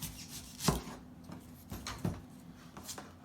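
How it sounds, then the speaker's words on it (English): Knife chopping a quarter of an onion on a board for a chickpea curry, a few separate sharp close cuts with quiet gaps between them. "So we're gonna cut this onion."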